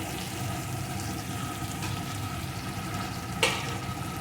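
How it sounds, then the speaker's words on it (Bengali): Fried pointed gourd pieces go into a pan of spiced masala, a steady loud sizzle of frying throughout with stirring, and one sharper clatter near the end as the gourd is added. "এখন ভেজে রাখা পটলগুলোকে এর ভিতরে দিয়ে দেবো"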